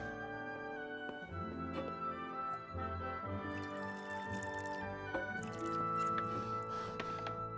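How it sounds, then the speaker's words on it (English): Drink poured in a medieval tavern scene in the video game Kingdom Come Deliverance, heard as liquid splashing and trickling with squishy drips under soft background music, close and moderately loud. "Pour us a drink."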